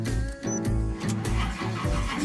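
A barn-find Firebird's engine runs with a rebuilt Holley Dominator carburetor re-jetted from 88 to 84 main jets, idling close by in a steady, lumpy, rhythmic lope with no talk over it.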